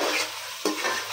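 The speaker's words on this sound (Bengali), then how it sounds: "এখন এই যে মশলাটাকে 2 মিনিট কষিয়ে নেব" Ginger-garlic paste masala sizzles in hot oil for biryani as a spoon stirs and scrapes it around the pan, a close, continuous frying hiss with a rhythmic scrape roughly every half second.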